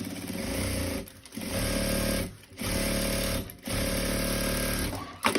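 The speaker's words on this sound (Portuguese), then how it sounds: "Já rebato uma costura aqui nesta borda" Sewing machine topstitching a seam along the edge of a zippered pouch, running in three loud close bursts separated by short pauses, with a small clunk at the end.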